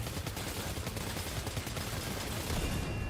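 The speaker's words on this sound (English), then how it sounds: "There's my assault rifle." Assault rifle gunfire in the video game Death Stranding 2, a dense continuous stream of rapid automatic shots, loud and close throughout.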